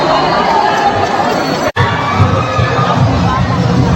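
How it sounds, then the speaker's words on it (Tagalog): A loud crowd at a basketball game roars and shouts continuously, a dense wall of cheering and chatter with a brief cut partway through. "Mabibingi ka talaga sa sobrang hiyaw ng mga tao."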